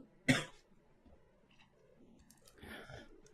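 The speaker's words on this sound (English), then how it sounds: "I'm going to cough 1 second." A woman gives one sharp, close cough, followed a couple of seconds later by a softer, rougher second cough and breathy throat noise, with no talking.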